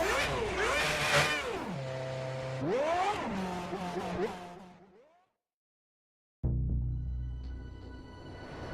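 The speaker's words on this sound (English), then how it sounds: "Let's fire up the engine." A Formula 1 car engine in a racing video game, set at the Canadian Grand Prix, revs up and down in loud, high-pitched sweeps, drops to a brief silence, then returns as a steady, lower idle.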